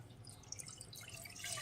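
Water poured into a pan for rasgulla sugar syrup, a steady close trickle and splash with small drips running throughout.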